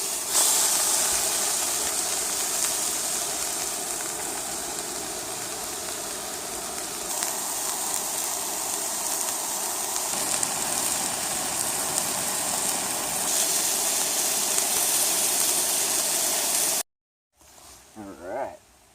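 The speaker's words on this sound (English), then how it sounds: "get to try out the MSR Pocket Rocket. And not exactly conventional dinner for that, but I'm having me a steak" An MSR Pocket Rocket camp stove roars with a steady, loud hiss while a steak cooks on it, the burner noise continuous and close for most of the stretch before cutting out abruptly near the end.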